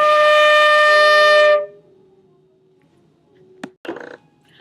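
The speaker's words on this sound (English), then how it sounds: "So when we put that on the flute, it's going to sound like this." A flute holds a steady, breathy sustained tone played with a relaxed embouchure for about a second and a half, then stops abruptly, followed by quiet room noise and a couple of small knocks.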